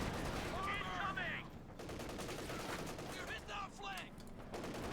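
Machine gun fire in the Company of Heroes 2 strategy game, dense rapid bursts and gunshots crackling continuously, with faint whistling shells overhead and a distant battlefield din.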